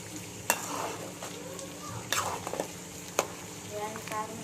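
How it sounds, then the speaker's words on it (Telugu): Goat head curry with masala powder is stirred in a pan, a spoon scraping and clinking in irregular strokes over a soft, steady sizzle, close by. "తిప్పుకోండి."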